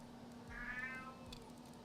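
A cat lets out one loud, drawn-out meow up close, rising and then trailing off, with a quieter short sound following it over a low steady hum indoors.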